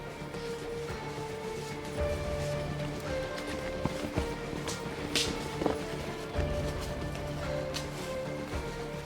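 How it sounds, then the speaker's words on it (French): Steady rain falls outdoors as a broad, even hiss, with a few faint thuds and scuffs like footsteps passing through it. "Il reste plus qu'à passer la pluie."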